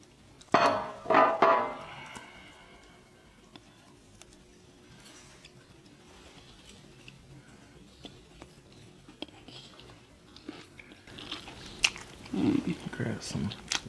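Close, crunchy chewing and biting of a sushi California roll in bursts at the start, followed by quieter mouth sounds and soft background talk, with more chewing near the end.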